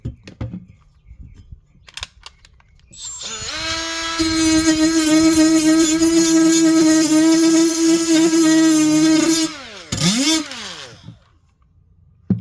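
A Milwaukee M12 right-angle die grinder spins up to a loud, high, steady whine while stripping epoxy, paint and foam from metal. The whine holds for about six seconds, then winds down with a falling pitch.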